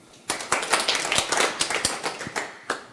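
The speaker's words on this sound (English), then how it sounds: "Warm applause, please." Audience applause at a tech conference talk on hardening wearables, dense clapping with sharp individual claps filling the hall for about three seconds, steady and fairly loud.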